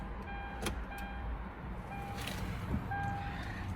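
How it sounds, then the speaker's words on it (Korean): A diesel SUV engine idles steadily with a low, even rumble, with a few faint clicks nearby. "엔진 소리나 이런 것도 굉장히 좋아요"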